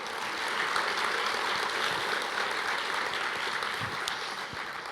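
A church congregation applauds in a broad, wash-like roar of clapping that is steady and moderately loud and tapers slightly near the end.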